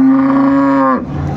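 A dairy cow moos once at the Ambari cattle market in Dinajpur, a loud, close, sustained low bellow that drops in pitch and trails off into market murmur.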